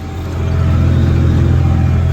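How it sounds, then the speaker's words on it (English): A farm tractor's engine runs steadily nearby, a loud, continuous low rumble that swells slightly in the first half-second and then holds even, with no voices. "I can get back in the tractor"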